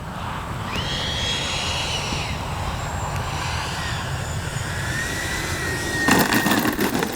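Freewing 90mm F-22 RC jet landing with its flaps down, a steady whining electric ducted-fan roar with a sweeping pitch, holding loud and near throughout and swelling into a rougher burst near the end.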